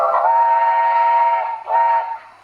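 American-style whistle sounded on a Roco S160 model steam locomotive, a harmonic chime-like tone held for over a second, a brief break, then a shorter second blast, loud and close.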